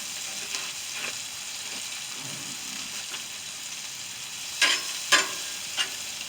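Honey-soy glazed salmon cooking on a Blackstone griddle, a soft, fairly quiet steady sizzle with a few sharper scraping clicks near the end.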